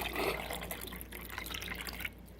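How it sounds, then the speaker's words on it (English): Water poured into the reservoir of a Mr. Coffee iced and cold coffeemaker, a soft continuous trickling and splashing stream, close but quiet, tapering off near the end. "Now what we need to do is to fill the water reservoir."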